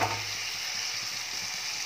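Mutton masala fries in oil with a steady, close, bright hiss, a brief continuous sizzle with no other sounds.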